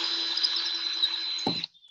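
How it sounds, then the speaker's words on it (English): A power drill boring a pilot hole through wood for a DIY wooden doormat, a steady high motor whine that ends with a brief bite and clunk as the bit finishes and the motor spins down. "Then you take the drill, and then what you're going to do is you're going to drill into that dot all the way"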